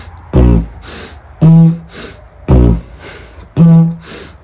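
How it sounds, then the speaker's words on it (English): A didgeridoo plays a rhythm exercise of four separate droning blasts with buzzy, harmonic tones, alternating a longer drone with a shorter toot, loud and close, with short breaths in between. "On the didge, it sounds like this."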